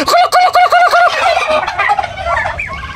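Turkeys gobble loudly in a rapid series of warbling calls, then give way to a busier mix of softer clucks and gobbles from the flock.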